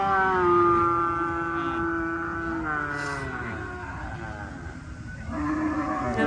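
Cows in a cattle lot, several drawn-out overlapping moos that carry steadily across the whole stretch, fairly loud and nearby, no talking.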